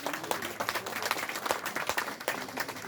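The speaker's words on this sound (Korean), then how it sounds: "박수로서 격려해 주시면 고맙겠습니다." Applause from the audience at a commemorative ceremony in Korea, fairly soft but steady clapping from a seated crowd, continuous for the whole stretch with no speech over it.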